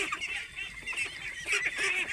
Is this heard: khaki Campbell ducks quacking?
yes